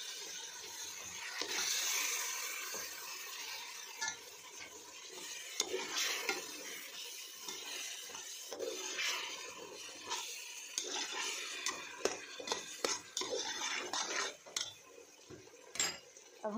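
Gond milk halwa being stirred in a pot with a spoon after milk is added: irregular scraping and soft clinks of the spoon over a faint bubbling sizzle, close and fairly quiet.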